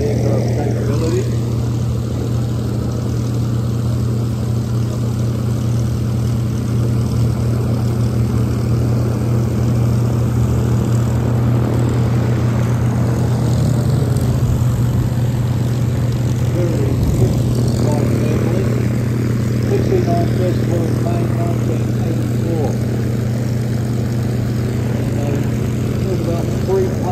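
Propeller aircraft flying a display at the Temora airshow, a steady droning engine tone held throughout at moderate distance, with a commentator talking over it.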